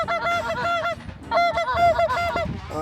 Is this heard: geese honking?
yes